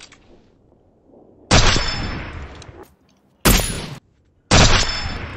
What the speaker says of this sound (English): He's trying to shoot me.